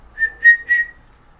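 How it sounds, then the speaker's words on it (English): A lone person whistles a short steady pitch in three quick, pulsing bursts, close and clear against near silence. "whistling,"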